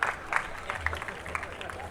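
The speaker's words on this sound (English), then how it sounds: "So please carry on the applause." Audience applause at a literature festival closing ceremony, a short burst of scattered hand claps from a crowd, mid-level and steady across the brief moment.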